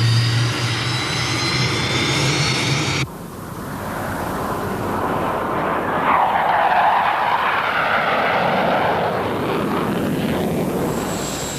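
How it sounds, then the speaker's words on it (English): A specially equipped NASA jet roars steadily through the whole stretch, a loud broad engine rush with a sharp change in tone about a quarter of the way in, and no voices. "A specially equipped NASA jet allows us to see some of its most striking features from the air."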